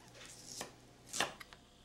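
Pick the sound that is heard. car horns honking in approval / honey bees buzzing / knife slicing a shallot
knife slicing a shallot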